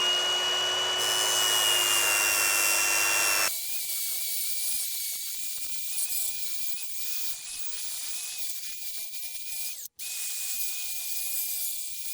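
An angle grinder fitted with a curved round-edge flap disc grinds a welded metal inside corner, a loud steady high whine for a few seconds that then drops into a quieter, lighter grinding hum.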